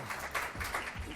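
Audience applause for a speaker at a Pakistani debate competition, a short burst of clapping from a crowd, fairly faint and steady across the whole moment.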